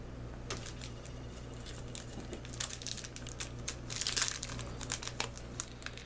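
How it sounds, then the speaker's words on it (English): Foil trading card pack wrappers crinkle and tear in close, quiet bursts over a steady low background hum, with a louder, denser stretch of crumpling partway through. "open up the packs and get ready to see what we got"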